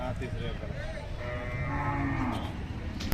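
A calm third-lactation cow, a Khillar-type animal at a livestock market in Sangola, Solapur district, moos in a long drawn-out call over steady crowd and market noise, fairly close and alone without talk.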